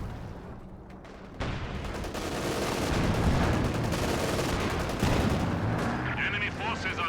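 An artillery barrage rumbles in a World War II strategy game, with repeated heavy shelling and gunfire that builds in loudness and overlaps a near-continuous roar. Faint talk runs beneath it.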